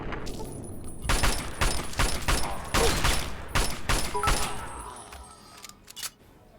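Rapid assault rifle bursts in the Fallout 3 video game, a run of loud clustered shots over several seconds that thin out toward the end.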